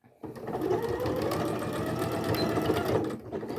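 A sewing machine topstitches around the edge of a padded zippered pouch. It starts abruptly and runs as a close, steady mechanical whir for about three seconds before stopping.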